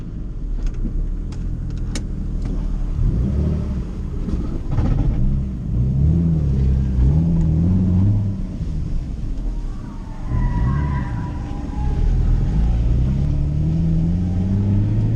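A car engine roaring and revving hard on a race track, pitch rising and falling through gear changes, loud and close with constant wind rush.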